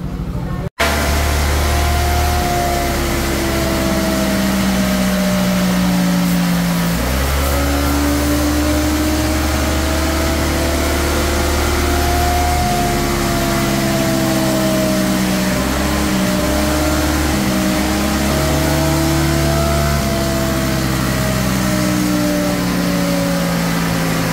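Motorcycle engine with an Uma M9 tune, held at a steady drone and revved up and down in long sweeping pitches, loud and close, with no distinct backfire pops standing out.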